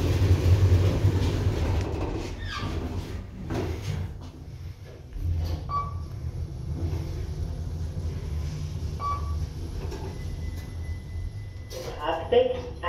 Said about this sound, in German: Aufzug fährt nach oben.